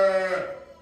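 A young lamb gives one short, loud bleat up close, a quavering cry that fades out within a second.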